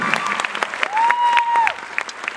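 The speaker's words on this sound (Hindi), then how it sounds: "ताली बजाएंगे क्या?" An audience at a large dance show in Navi Mumbai claps in a dense burst of applause, with a sustained whistle-like tone rising in the middle.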